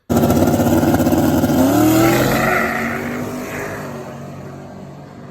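A drag race car makes a full-throttle pass down the strip, loud and close at first with rising engine pitch through the gears, then fading as it pulls away into the distance.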